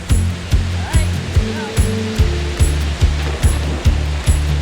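A steady rush of falling water fills the background while a regular thumping beat pulses over it.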